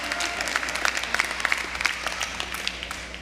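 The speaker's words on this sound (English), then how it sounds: "I heard some claps." An audience at a university commencement ceremony claps in steady, dense applause, a close crowd of many hands patting continuously for a few seconds, with a faint voice underneath.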